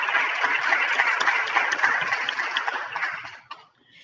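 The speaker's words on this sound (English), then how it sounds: "Let's give her a round of applause" An audience at a health and climate community event claps for a speaker taking the stage, dense sustained applause that fades out over the last half second.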